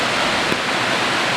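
A waterfall at the abandoned Oregon City Waterworks in pouring rain gives a steady, dense roar of rushing water, broad and unbroken throughout.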